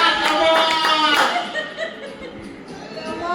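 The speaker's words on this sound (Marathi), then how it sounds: "टाळ्या थांबू नका." Applause from a lively group at a home birthday celebration, fairly close, with chuckles, laughter and chatter mixed in over about three seconds.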